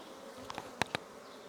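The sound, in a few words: honeybees buzzing in hive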